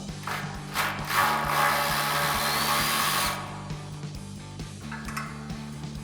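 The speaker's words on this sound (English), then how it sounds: "Now we'll remove all 3 of our 10mm bolts and nuts" A ratchet backs out the 10mm bolts and nuts holding the front bumper on a 2019-2026 RAM 2500 HD pickup: a close, moderately loud stretch of whirring and clicking metal, with a steady mechanical hum underneath and faint clinks after.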